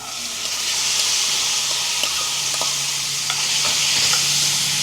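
Thinly cut cluster beans sizzling and frying in a curry as they are stirred, a steady close hiss with scattered scraping ticks from the stirring and no talk.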